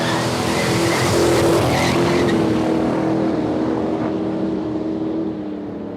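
An HG Ute drag car roars loudly at a raceway, its engine note uneven and rough as if misfiring, a sustained close blare that fades slightly toward the end.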